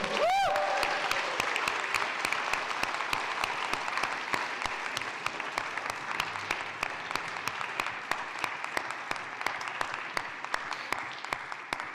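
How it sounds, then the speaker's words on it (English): Audience applauding after a student senior project presentation, sustained clapping from a modest crowd with distinct individual claps standing out, heard at moderate distance and continuing steadily throughout. "let's have another round of applause for Levi."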